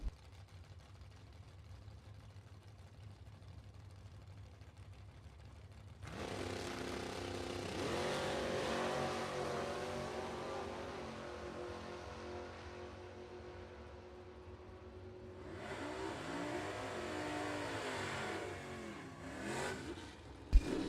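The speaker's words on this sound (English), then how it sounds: "Moeller on the right-hand side, a 618 dial-in for the Chevy Camaro from Sheboygan, Wisconsin" A Chevy Camaro and a Chevrolet Vega drag race side by side at a bracket race, engines roaring loudly at launch and holding a sustained rising drone before a second surge near the end, with no talk.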